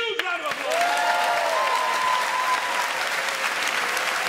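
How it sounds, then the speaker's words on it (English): Theatre audience applauds a volunteer named Sean at a magic show, a full, steady round of clapping that swells quickly and holds, with faint voices and a brief whistle-like tone near the start. "Give Sean a huge round of applause."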